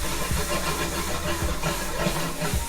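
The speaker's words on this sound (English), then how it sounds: "I like to deglaze with a little sherry, a little dry sherry." Dry sherry deglazes softened onions in a hot pan for bison cheesesteak sandwiches, giving a steady, loud hissing sizzle with a few faint thumps beneath it.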